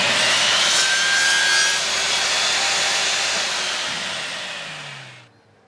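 A power saw trims a wooden pen blank, a loud, steady, hissing cut lasting several seconds that fades away and stops near the end.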